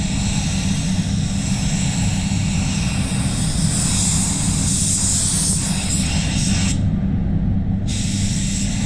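A spray gun lays basecoat paint onto a Mazda during a bare-metal respray, a steady unbroken hiss of air and atomized paint running throughout at even loudness.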